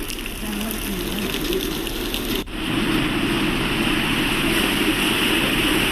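Heavy rainwater gushing through flooded streets in Ujjain during a downpour, a dense continuous rushing wash that holds steady and loud, with a brief dip midway before resuming fuller.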